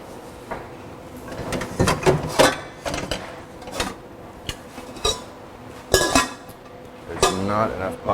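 Pots, pans and cutlery clatter and clank in a busy kitchen, in scattered bursts of metallic knocks and scrapes, with people talking now and then between them.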